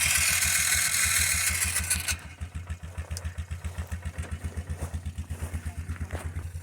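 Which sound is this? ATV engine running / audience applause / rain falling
ATV engine running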